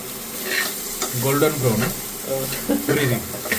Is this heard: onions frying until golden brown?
yes